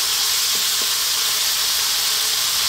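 Tomatoes hit a hot pan while cooking a fresh sardine tomato sauce, giving a steady, loud hiss of sizzling with faint stirring ticks and no voices.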